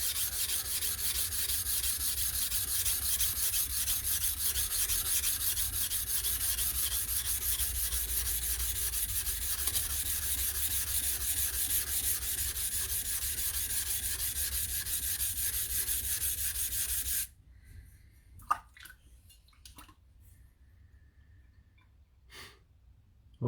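A steel blade's shinogi is worked on a polishing stone with long longitudinal strokes, producing a steady close rasping rub that runs continuously, then stops abruptly, leaving near silence broken by a few faint knocks.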